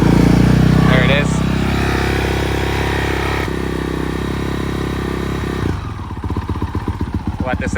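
A Honda Grom motorcycle idles to warm up, its small single-cylinder engine chugging loudly and close by in a steady pulse that settles into a sharper, choppier beat toward the end.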